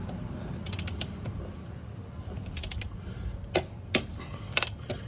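Sharp clicks ring out from a torque wrench tightening lug nuts on the left front wheel of a 2001 Mercury Grand Marquis, several short metallic snaps in small clusters over a low steady background hum.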